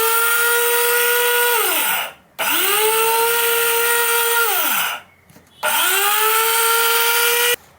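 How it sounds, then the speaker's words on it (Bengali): An electric spice grinder whirs loudly while blending cumin seeds, running in three sustained bursts with its pitch sliding down as each stops, separated by brief pauses; close and steady, with no talk. "এখন ব্লেন্ড করে নেব।"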